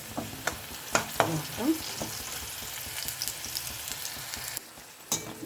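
Small pieces of okra (ladies finger) frying in a pan, a close, steady sizzle with scattered crackles and the clatter of a spatula stirring, a few louder knocks, and a brief dip near the end, without talk.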